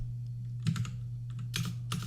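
Keys on a computer keyboard are tapped in a few short clusters of quick, close clicks over a steady low hum, with brief pauses between bursts.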